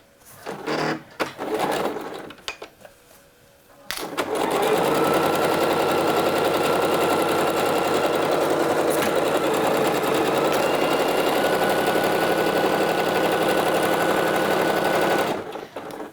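After a few seconds of handling noise, a sewing machine runs a steady straight stitch 1 cm from the fabric edge, a loud, continuous rapid whir that stops near the end.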